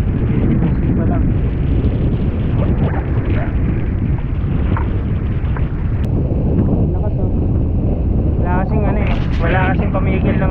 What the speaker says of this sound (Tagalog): Wala kasing pamigil ng hangin yung area rito.